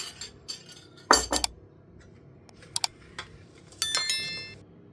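A whisk clatters against a metal pan while stirring melted butter and sugar for brownies, with scattered sharp clinks, a louder cluster of knocks and a ringing metallic strike near the end.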